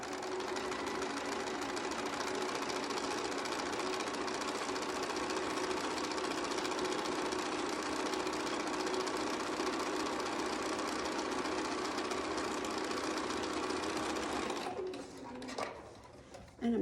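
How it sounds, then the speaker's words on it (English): A sewing machine runs steadily, stitching a quarter-inch seam on a quilt block, a continuous even whirring hum that holds for most of the stretch before stopping abruptly near the end. "I'm going to turn it around and sew 1/4 inch from that line on the other side."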